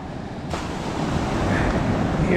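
Ocean waves surge and wash onto Curracloe Beach with a broad, rushing roar, building after a brief swell, wind noise mixed in.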